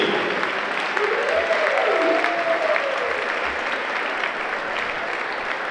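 A basketball game crowd applauds and cheers the LCA seniors, class of 2016, a steady, dense wash of clapping filling a large gym throughout.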